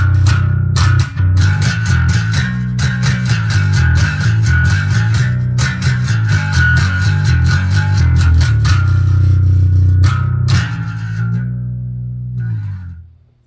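Fender Jazz Bass played through a digital desktop amp app in a home studio, a loud, continuous effected bass line with distorted, chorused tone and rhythmic plucked notes, ringing out and fading at the end.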